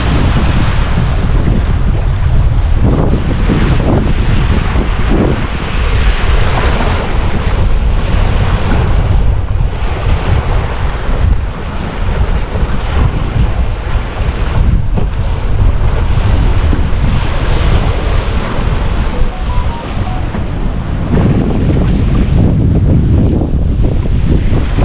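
Steady wind roar buffets the microphone while waves of about four feet break around a sailboat running with 10 to 12 knots of wind behind it, a loud, continuous wash with no letup.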